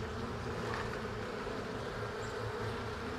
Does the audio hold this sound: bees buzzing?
yes